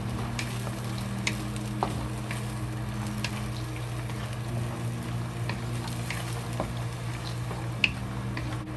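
Pork and soybeans stir-frying with dark soy sauce in a hot pan, a steady dense sizzle throughout with occasional faint clicks of the utensil, close and continuous, no talk.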